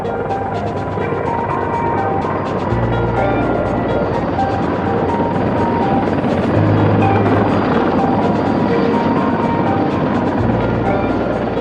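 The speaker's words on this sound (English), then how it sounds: "This helicopter performed well at transporting very heavy cargoes" A Mi-26 heavy transport helicopter's rotor and turbine drone steadily throughout, loud and close, with a deep pulsing thump and broadband roar; no voices.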